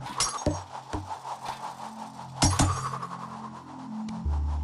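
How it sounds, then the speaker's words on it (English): Glass panes shattering in the VR game Yeeps as a thrown frisbee ricochets through them: several sharp clinking, breaking crashes in quick succession, close and loud, with some tinkling debris between impacts. "So let's see how many panes of glass we can break with one frisbee."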